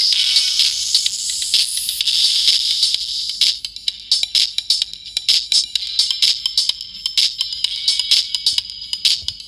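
High, hissy treble sound played through a tweeter speaker: a steady bright wash for about three seconds, then crisp rapid ticks and bursts like cymbal detail, with almost nothing in the low end.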